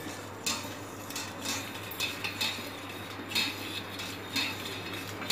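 A spoon stirs a jeera-neem drink with black salt, cumin and sugar powder, clinking against the container in a steady series of light metallic taps over about five seconds, close and with no talking.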